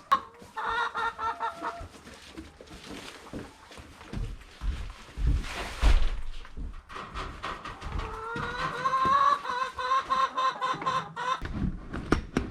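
Chickens cluck and squawk in a backyard coop during a spring clean-out, a busy close flock with overlapping calls, plus scraping and handling noises in between.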